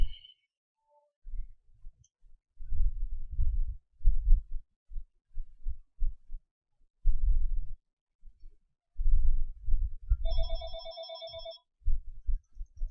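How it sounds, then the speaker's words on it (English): A phone rings in a repair workshop during a baseband chip reballing job, with a short electronic ringtone burst near the start and a longer repeating melodic ring later, amid bursts of close handling and bench noise. "Alright, phone call."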